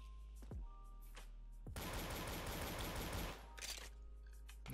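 Gunfire in the Roblox shooter Arsenal: a couple of faint single shots, then a dense rapid burst lasting about a second and a half, followed by a brief shorter volley, all fairly quiet.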